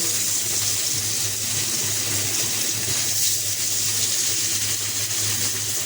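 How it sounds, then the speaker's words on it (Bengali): Small pieces of fish sizzle steadily in hot oil in a pan, a loud continuous hissing fry with no talk over it. "এখন মাছগুলো দিয়ে দিতেছি।"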